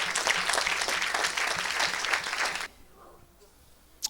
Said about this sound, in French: Est-ce que tu peux acclamer pour Jésus?